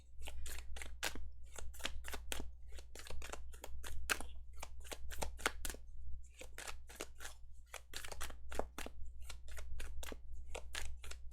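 Tarot cards are shuffled in quick repeated riffling bursts, crisp and close, with a brief pause in the middle and a low steady hum underneath.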